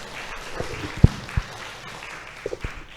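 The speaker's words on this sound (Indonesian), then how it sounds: "Tepuk tangannya dong buat multimedia." Scattered clapping from an audience after a performance at a knowledge-sharing event, uneven and moderate, with a few louder close claps standing out over a murmuring room.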